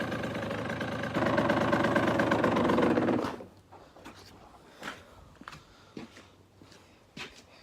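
A freshly rebuilt 2007 Suzuki RM85 dirt bike engine runs steadily and loudly for about three seconds, then cuts off, leaving faint knocks and small sounds.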